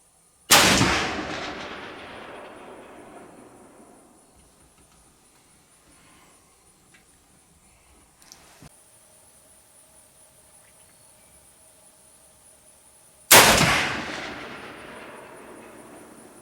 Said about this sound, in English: shooting right now is a Marlin 336-35 Remington that belonged to our dad